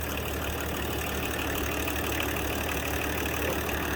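Old engine still on its original build with little maintenance, idling steadily in a constant, dense rumble that holds the same level throughout, fairly close, with no voices.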